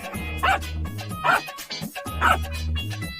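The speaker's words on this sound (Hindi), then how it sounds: "कुत्ता सनकीलाल के पास जाकर जोर से भौंकने लगता है" A dog barks three times in a loud, evenly spaced sequence, each bark sharp with a tonal, slightly whiny edge, close to the listener.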